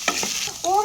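Boiled Maggi noodles being stirred in a pan, a short burst of scraping and soft sizzling, close and fairly loud, with no voice.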